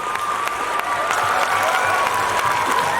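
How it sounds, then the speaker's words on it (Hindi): An audience at a Hindi poetry gathering claps in sustained, dense applause, loud and even for the whole stretch with faint crowd murmur beneath. "एक बार जोरदार तालियों से मुझे आदेशित कीजिए"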